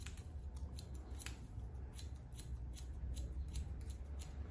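Barber's scissors snip through hair in a steady run of quick, crisp cuts close up, the blades working slightly diagonally and upward over a low background hum.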